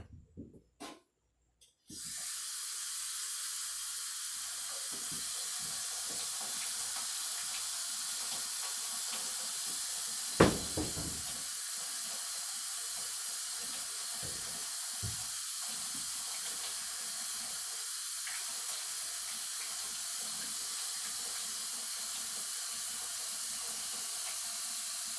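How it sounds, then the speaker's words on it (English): Hands scrubbed with a dish scrubber under a running tap: a steady, close hiss of flowing water starts after a couple of seconds and runs throughout, with occasional brief knocks and splashes. "I'm using a dish scrubber to scrub my hands"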